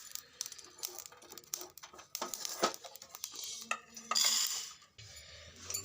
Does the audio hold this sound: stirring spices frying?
yes